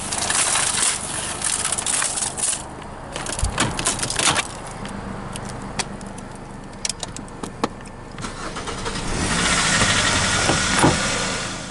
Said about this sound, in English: After successfully activating the engine with a USB cord, Swervo's on the move